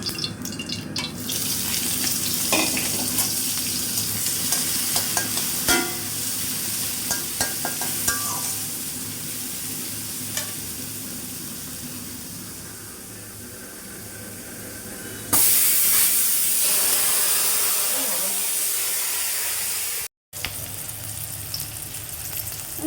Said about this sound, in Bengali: মরিচ পেঁয়াজটা ভেজে নিব